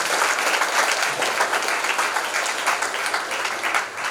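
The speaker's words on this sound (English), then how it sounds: "let's give a huge round of applause to all the panel members" Loud, dense applause from an audience honouring the members of a panel discussion, a continuous roar of many clapping hands sustained throughout without a break.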